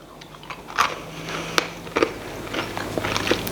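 Crunchy gingerbread-style breakfast cookie bitten and chewed close up, a series of sharp crackling crunches spread irregularly across a few seconds, with quieter chewing between them.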